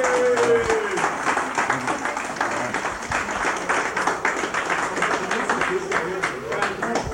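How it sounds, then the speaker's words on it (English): An audience gives a round of applause for a fourth-place winner at an award presentation, dense clapping filling the room while a voice carries over it. "Let's have a big round of applause."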